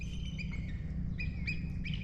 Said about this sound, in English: Eagle flying out there somewhere. Sound like he coming this way.